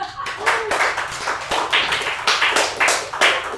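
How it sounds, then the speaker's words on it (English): Audience applause at a Bitcoin covenants talk: a room full of hands clapping in dense, uneven bursts for a little over three seconds, close and fairly loud, with no speech over it. "Round of applause for Jerry."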